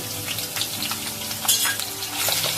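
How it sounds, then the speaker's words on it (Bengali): Chopped onion frying in hot oil while cooking a broiler chicken bhuna, giving a steady close sizzle with light stirring scrapes throughout. "এবারে পেঁয়াজটাকে ভেজে নিব।"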